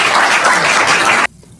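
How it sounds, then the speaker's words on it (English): A crowd applauds in a dense wash of clapping for just over a second, then it cuts off abruptly into near quiet. "Let's give the competition cheerleaders a round of applause."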